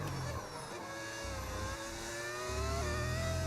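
A Formula 1 race car engine in the video game F1 25 screams and revs through rising gear pitches, loud and continuous with shifts throughout.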